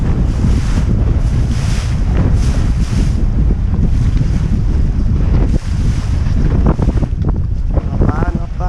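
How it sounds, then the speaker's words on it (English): Wind blowing hard while sailing a Laser dinghy, with constant loud microphone buffeting and rushing water and spray beneath, and a brief faint voice near the end. "So breeze is picking up a little bit here on the left"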